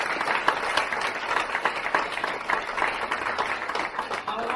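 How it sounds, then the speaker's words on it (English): At a taekwondo black belt ceremony, the crowd breaks into lively clapping that holds through the moment, uneven and close, with some voices mixed in beneath it. "Let's give them a round of applause."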